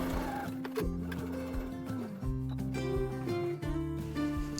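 A sewing machine stitches around the lining seam of a fabric Easter bunny bag, its motor running in steady stop-start bursts that rise and fall in pitch, close and alone.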